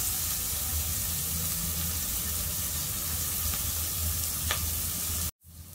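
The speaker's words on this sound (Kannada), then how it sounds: "ಈಗ ಜಜ್ಜಿರೋ ಶುಂಠಿ, ಬೆಳ್ಳುಳ್ಳಿ ಮತ್ತು ಮೆಣಸಿನ್ಕಾಯಿ ಪೇಸ್ಟ್ನ ಇದಕ್ಕೆ ಹಾಕೋತೇನೆ" Crushed ginger, garlic and green chilli paste frying in a pan, a loud steady sizzle close up that cuts off abruptly at the end.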